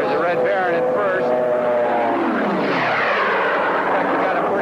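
An RB-51 Red Baron racing airplane roars past during a 1979 world air speed record attempt, a loud sustained engine drone that sweeps downward in pitch as it passes, with a commentator talking over it.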